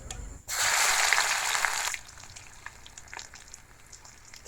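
Garlic and mustard seeds hitting hot coconut oil for a Sri Lankan shrimp curry, a sudden loud hiss that lasts about a second and a half, then fades to faint crackles and pops.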